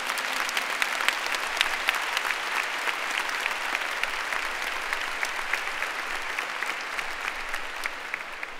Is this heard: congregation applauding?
yes